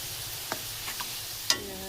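Potatoes fry in white oil under a soft continuous sizzle, with a few sharp clicks and taps as pieces are flipped one by one in the pan, and no talk.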